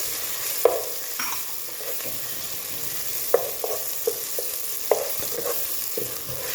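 Garlic and ginger frying in oil for a mixed vegetable sabzi, stirred with a spoon: a steady sizzle broken by several sharp scrape and tap accents, close and fairly quiet, with no talking.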